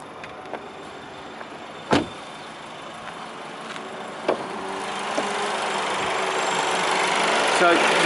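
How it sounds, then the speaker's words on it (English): A Volkswagen Golf S TSI BlueMotion 1.4 five-door hatchback idles with a soft, steady engine hum that stays low and even throughout, broken only by a couple of brief knocks. "despite the fact that the engine is on, you can hear me quite clearly. Very soft engine."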